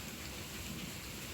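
Hailstorm with strong wind and thunder in southern Cianjur: a dense, steady roar of falling hail and rain, loud and close, with no pauses and a slight surge at the end.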